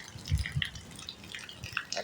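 Soft, scattered water drips from upstairs plinking indoors at uneven intervals, faint and close, with no one speaking.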